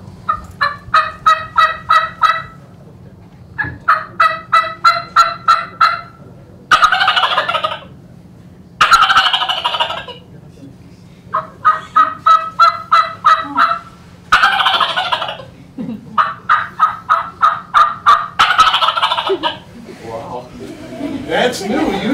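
A turkey caller imitates wild turkeys by voice. Runs of rapid yelping hen notes alternate with rattling gobbles, repeated several times, loud and close, with a low steady hum in the background.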